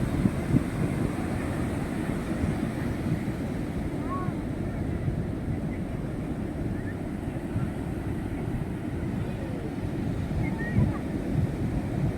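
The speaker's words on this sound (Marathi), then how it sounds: "हे बघा लाट आली बघा जोरात." Strong ocean waves break on Chandrabhaga beach in a continuous, heavy roar, with wind buffeting the microphone throughout.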